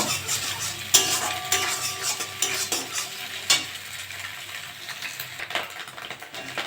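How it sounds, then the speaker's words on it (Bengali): An egg frying in a pan for chowmein sizzles steadily while a utensil scrapes and taps against the metal, with a few sharper clinks standing out over the continuous frying hiss. "ডিমটা ভালো করে ভেজে নেব"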